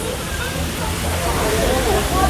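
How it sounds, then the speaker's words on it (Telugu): Steady rushing water pours from an artificial rock waterfall at Vandalur zoo in Chennai, a constant broadband wash throughout with faint crowd murmur in the background. "Water fall."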